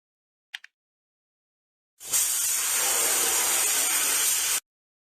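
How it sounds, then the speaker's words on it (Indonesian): After a couple of tiny clicks, a video game spray gun painting a damaged spot on a police car lets out a steady, even hiss for a few seconds, then cuts off abruptly. "Geser pistol semprot ke tempat yang rusak."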